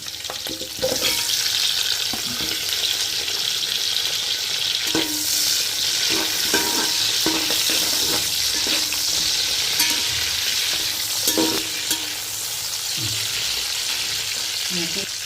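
Onions fry in a pan for chicken biryani with a loud, dense sizzle that holds steady throughout, broken by occasional spoon scrapes and stirring taps.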